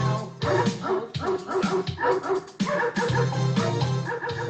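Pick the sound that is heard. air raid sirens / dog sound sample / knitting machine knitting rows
dog sound sample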